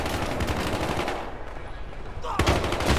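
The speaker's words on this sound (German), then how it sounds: "der hat Sperrfeuer auf uns gemacht" Rapid bursts of machine-gun fire from a video-game barrage hit an armored SUV on PS4, loud and close, with dense overlapping shots that thin briefly before a heavier volley.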